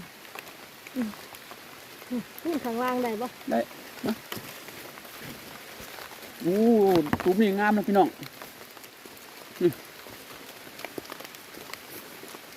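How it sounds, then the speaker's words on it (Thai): Steady light rain patters across the ground on a mushroom-foraging outing, a soft continuous hiss beneath someone talking in short bursts. "โอ้ยฝนตกใส่"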